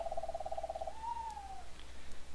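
An owl in the Minecraft Witchery mod gives a quick run of stuttering hoots and then one longer gliding hoot, clear and alone against a quiet background.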